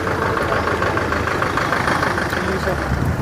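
A car engine runs steadily in a jam of vehicles from Haryana, Uttarakhand and Punjab on the road from Tehri toward Kedarnath, with a constant low idle under dense traffic noise and close talk.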